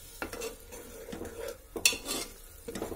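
Tomatoes are stirred and fried in a pan for aloo tamatar sabzi, with a spoon scraping and clinking against the metal at close range over a faint sizzle.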